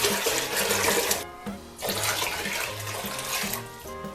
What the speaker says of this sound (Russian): Берем кастрюлю, заливаем 3 литра холодной воды.